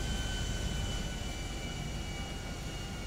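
Steady, loud drone of a plane engine in flight in GTA, a continuous broadband roar with a faint high whine, holding constant and alone for the whole stretch.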